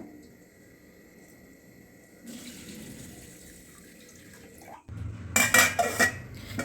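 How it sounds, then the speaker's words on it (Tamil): Fenugreek seeds being rinsed under running tap water in a kitchen sink while idli batter is being prepared. A low trickle grows stronger and ends in louder splashing, with clattering bowls and a steady flow that stays close and clear. "ஒரு ஸ்பூன் வெந்தயம் நல்லா தண்ணி ஊற்றி வாஷ் பண்ணிடலாம்"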